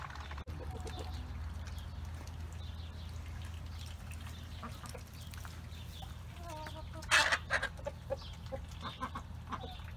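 Backyard hens, three laying birds kept near ducks, cluck softly against a low outdoor hum, then break into a louder run of sharp clucks near the end.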